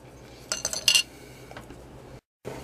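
A metal spoon scrapes and clinks against an MRE pouch holding lemon pepper tuna. There are a few quick, sharp taps and scrapes over a quiet background, then a brief silence and one last scrape.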